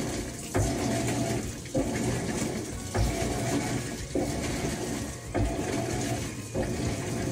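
A washing machine filling with water, a steady gushing flow with periodic surges and pauses every second or so, moderately close and continuous.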